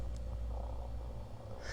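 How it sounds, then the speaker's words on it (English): A soft, steady cat purr, close and continuous, with a faint high squeak near the end and no talking. "Can you hear her purring?"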